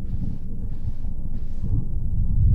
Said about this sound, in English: Is that a storm?